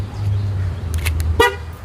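A parked car gives a single short horn chirp as it is locked, a sharp close toot near the end over a low engine-like rumble and a few soft clicks.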